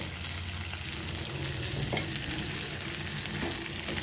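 Ginger, cumin, turmeric, salt and sugar fry in a pan with eggplant for Bengali vegetarian shukto, making a quiet, continuous sizzle with faint stirring scrapes.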